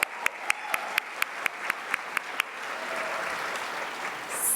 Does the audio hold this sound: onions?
no